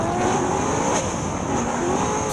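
Race cars at full throttle on a circuit during a Speedweek broadcast, a steady loud engine roar holding throughout with a faint pitch sweep as cars pass close.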